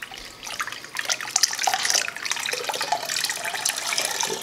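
Hot water poured onto grain mash while brewing a braggot, a beer and mead blend, at about 150 degrees; a steady, close splashing pour runs throughout with bright, uneven gurgling.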